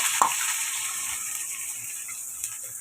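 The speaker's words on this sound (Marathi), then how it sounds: "हे बघा, हे मी आता फोडणीला टाकते." Freshly ground paste of roasted coconut, garlic, ginger and curry leaves drops into hot oil for tempering, giving a close, steady sizzling hiss that opens with a brief clatter and then settles into continuous frying.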